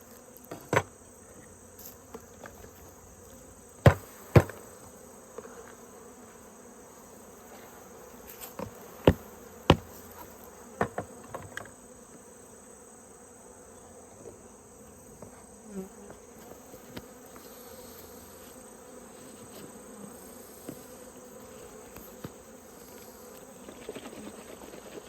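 Honeybees swarm around an open hive during a mite check, a soft steady buzz running throughout, punctuated by sharp clicks and knocks of hive parts being handled, with no talking.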